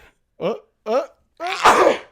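Two short breathy intakes build up to a loud, explosive sneeze up close, all in quick succession.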